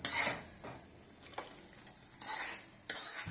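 Salt, chilli powder and turmeric being mixed for a drumstick-tomato pickle, a spoon scraping and clinking against a metal vessel in several short bursts, close and fairly loud.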